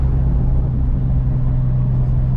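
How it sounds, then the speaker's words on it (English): A Nissan 350Z fitted with a Kinetix Velocity intake manifold holds a steady, deep engine rumble close up, with a strong low drone and no clear rise in revs. "Definitely makes the car sound a lot better."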